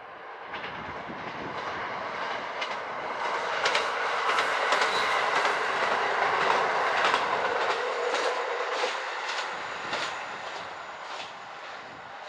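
A JR Hokkaido KiHa 54 diesel rapid train on the Hanasaki Line rumbles steadily past with rhythmic clickety-clack of wheels over rail joints, a sustained engine drone swelling and fading.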